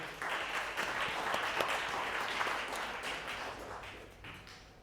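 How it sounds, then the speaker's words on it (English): Audience applause at a real estate open house seminar, a dense, steady round of clapping from a full room that holds for several seconds before tapering off, with no talking over it. "Can we just get one quick round of applause for our sponsors?"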